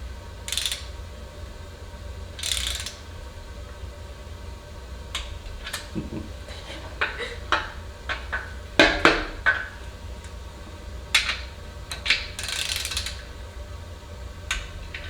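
A ratchet wrench tightens stroker crank bolts on a VW air-cooled engine, giving irregular bursts of sharp metallic clicks and ratcheting strokes, close and fairly loud over a low background hum.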